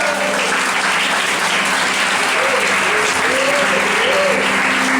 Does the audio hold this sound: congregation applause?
yes